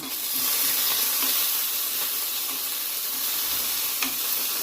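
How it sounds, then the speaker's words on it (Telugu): Four green chillies and cumin fry in a little oil for peanut chutney, giving a steady, close sizzle with faint stirring clicks and no talk. "కొద్దిగా నూనె వేసి దాని నాలుగు పచ్చిమిర్చి తర్వాత జీలకర్ర వేసిన"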